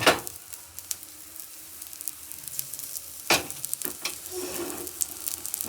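Small potato tikkis fry in a pan with a steady, close sizzle, and a few sharp scrapes and clanks of a utensil come through, with no one speaking.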